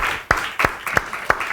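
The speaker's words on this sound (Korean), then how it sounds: "우리 크게 박수합시다" A church congregation claps at a celebration service: four sharp, distinct claps spaced about a third of a second apart, moderately loud against a quiet room, with no talking.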